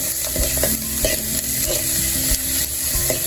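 Bell peppers fry in a pan for a Haitian barbecue sauce, giving a constant dense sizzle with close scraping and clattering of stirring throughout and no talking.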